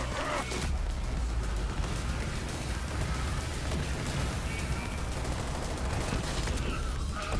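Dense, continuous gunfire from the Hellfire gun in Borderlands 3, a loud unbroken wash of rapid shots and crackle lasting throughout, with no voices heard.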